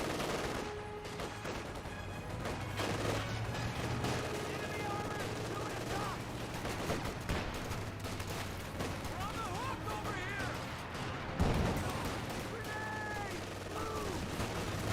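Thompson submachine gun fire from a captain's squad in Company of Heroes 2, rattling among steady battlefield gunfire and rumbling engine drone, with a commentator speaking over it.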